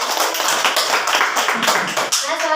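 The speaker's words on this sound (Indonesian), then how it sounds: "tepuk tangan Mbak Ida" Applause during a classroom microteaching practice session, a small group clapping hands rapidly and loudly up close for a couple of seconds.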